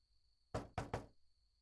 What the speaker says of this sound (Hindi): हयात सुनो, दरवाजा खोलो